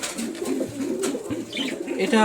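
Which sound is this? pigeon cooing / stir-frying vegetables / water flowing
pigeon cooing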